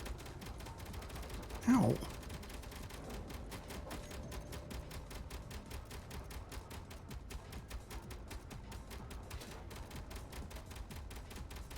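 Weapons in Space Engineers with the Weaponcore mod fire in a rapid, steady stream of faint, evenly spaced shots over about twelve seconds, with a brief voiced yelp early on.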